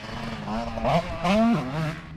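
A KTM motocross motorcycle revs on a track, its engine rising in pitch twice in strong throttle surges between lower rumbling idle, loud and near.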